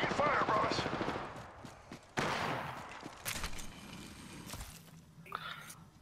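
Gunfire in Apex Legends, rapid automatic bursts and single shots, some near and sharp, others more distant, with a voice speaking over the shooting.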